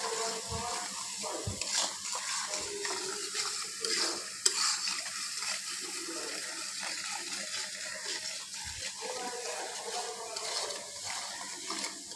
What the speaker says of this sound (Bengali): মশলাটা আমার কষানো হয়ে গেছে, দেখেন চমৎকার একটি কালার এসেছে।